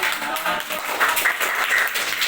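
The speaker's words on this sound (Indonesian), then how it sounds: "Kasih tepuk tangan." Students clap briefly in a classroom after a group gives its answer during a math lesson, a short, scattered burst of hand claps.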